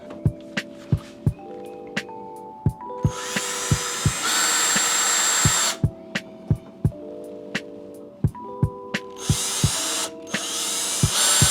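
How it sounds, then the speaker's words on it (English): A power drill bores holes into a plastic kayak hull in a few sustained bursts of high whine, separated by quieter pauses, while sharp clicks and thin tones recur steadily throughout. "we're going to drill our holes"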